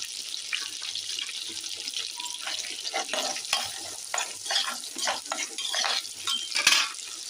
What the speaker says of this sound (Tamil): வெங்காயம் நல்லா வதங்குது